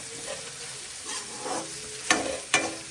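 Stirring in a kadhai (wok) brings a soft sizzle and scrape, broken by two or three sharp metallic clanks of the loose handle knocking late in the stir.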